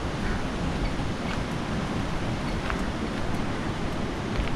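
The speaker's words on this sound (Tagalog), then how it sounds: "Ang malaki ng alon dyan." Ocean waves surging at Mirissa beach on the south coast of Sri Lanka, a steady loud wash of surf with wind noise on the microphone, no voices.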